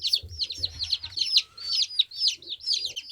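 Baby chicks peep in a brooder in Alaska, a steady stream of high, rising chirps repeating in quick succession, close and fairly clear, with faint low rustling underneath.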